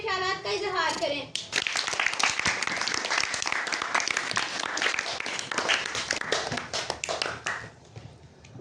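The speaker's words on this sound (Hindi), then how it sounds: "तो अब बहुत ज़्यादा तालियों में उनका इस्तकबाल करते हैं कि वो आएँ और अपने ख्यालात का इजहार करें" An audience at a poetry mushaira bursts into sustained, dense applause welcoming a speaker to the stage, loud and continuous for several seconds after a brief voice at the start.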